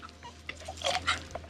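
A dog makes a few short, soft whimpering and snuffling sounds nearby, quiet and uneven, with a faint steady hum underneath.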